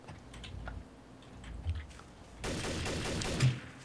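Bursts of gunfire in the game Garry's Mod, Trouble in Terrorist Town: a dense, loud volley of rapid shots starts partway through and runs to the end, after quieter thuds and background noise.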